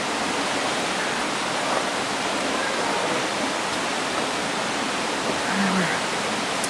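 A waterfall along a hiking trail in the Zion-Bryce area roars as a loud, steady broadband rush with no pauses, filling the whole clip from close by.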